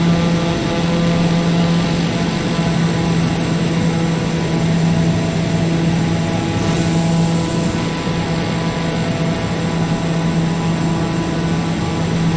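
Steady, loud drone of a light aircraft engine in Microsoft Flight Simulator, a continuous hum with strong tonal whine held for the whole stretch, no voices.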